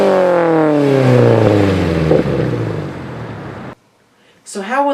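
A manual-transmission car engine revs up to about 2,000–3,000 RPM, its rising harmonic whine climbing loudly for several seconds before cutting off abruptly, followed by a short gap and a voice.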